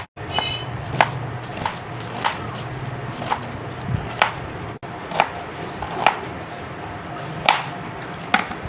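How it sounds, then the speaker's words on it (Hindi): Knife chopping onion into fine slices for pakora on a board, a steady series of crisp close taps roughly every half second to a second, with no talking. "अभी हम इसको बारीक बारीक काटेंगे"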